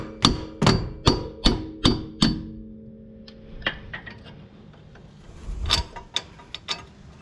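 Six sharp, evenly spaced metal hammer blows ring out close by as a wheel stud is hammered out, followed by lighter taps and scrapes, then a quicker burst of strikes.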